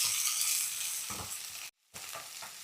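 Finely chopped onion frying with cumin in a pan, a steady close sizzle with brief stirring scrapes and a short gap of silence partway through.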